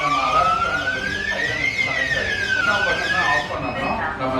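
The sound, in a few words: GSM home security alarm panel siren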